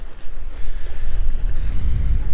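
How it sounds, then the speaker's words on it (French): A sailboat's engine runs steadily while the boat lies at anchor off Barbados, a continuous low rumble blended with wind buffeting the microphone and lapping water, loud and close throughout with no talking. "on a quand même le moteur qui tourne"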